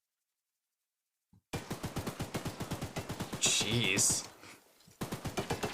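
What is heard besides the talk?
turret firing in video game Choo-Choo Charles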